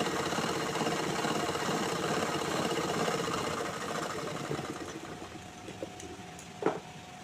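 A sewing machine running a stitching pass, a fast continuous mechanical whirr that slows and fades out toward the end, followed by a soft click or knock.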